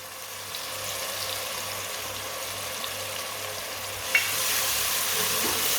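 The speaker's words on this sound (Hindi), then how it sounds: "अदरक और सब्ज लहसुन को भी 2 मिनट के लिए पका लेंगे।" Crushed ginger and garlic sizzle softly and evenly in a pan for an aloo gobhi curry, a quiet, steady frying hiss with one small clink near the end.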